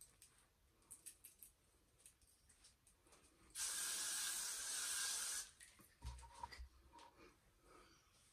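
Hairspray from a can, one continuous close hiss lasting about two seconds, framed by quiet handling and rustling noises before and after.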